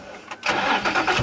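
A Nissan G35 drift car's engine, freshly tuned on brand new mounts, cranks briefly and catches, settling into a loud, close, rough-running, vibrating idle.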